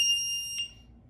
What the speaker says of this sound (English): Test if your hot water alarm works.